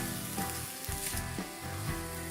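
Onion sautés in a cast iron pan for chicken pot pie, a close, continuous sizzle with a low hum and occasional stirring bumps throughout.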